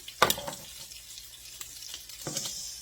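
Shrimp frying in a pan with sausage for drunken noodles, a sharp sizzling burst near the start, then a softer steady hiss with occasional clinks and stirring sounds, swelling again toward the end.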